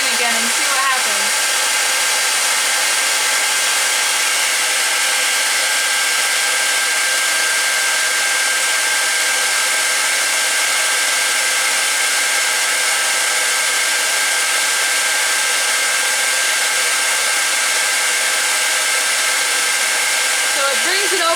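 A hairdryer, positioned by an Arduino PID servo, blows in a loud, unbroken whoosh that runs steadily throughout at the same level.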